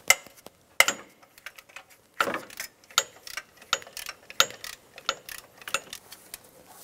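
A ratchet backs out the last bolt on the rear of the AC compressor of a 2000-2006 Toyota Tundra 4.7L V8, giving a rapid series of close, sharp clicking strokes in short uneven bursts, no talk.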